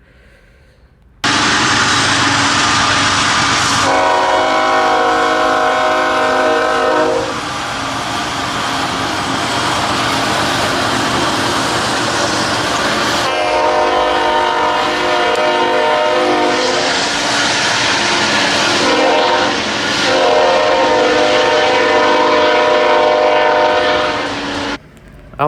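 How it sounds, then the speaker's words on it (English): A Union Pacific container freight train with a Kansas City Southern locomotive passes in Riverside, California, sounding long, loud, sustained horn blasts in several stretches over steady rolling rail noise, with no talking. "I like that sound of the horn as it's going over there in that direction."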